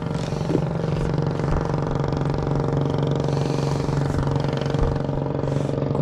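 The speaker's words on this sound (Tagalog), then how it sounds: "Ang ingay nung ano, ingay ng mga bangka" Droning motorboat engines on the water at a fishing spot, a loud, continuous mechanical hum with steady low tones that never lets up, with no voices over it.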